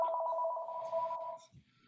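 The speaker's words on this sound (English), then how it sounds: "just a second, Jimmy, would you get that, honey, so it doesn't keep ringing?" A telephone rings indoors with a steady electronic tone that cuts off after about a second and a half, followed by faint rustling.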